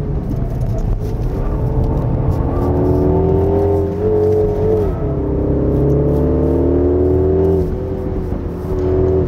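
A 2024 Mini JCW Countryman ALL4 engine pulls steadily along a winding mountain road, its loud continuous drone rising and falling with throttle and automatic gear changes, heard from inside the cabin with no talking.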